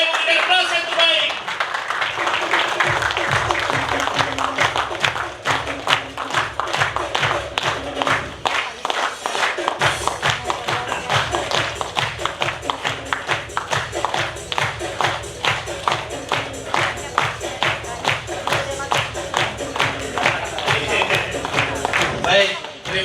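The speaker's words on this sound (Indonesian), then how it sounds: "Kita sambut dengan berdiri, Bapak Ibu, dengan aplaus yang terbaik." Sustained audience applause at a business networking event in Bandung, with loud, dense clapping that carries on steadily for over twenty seconds.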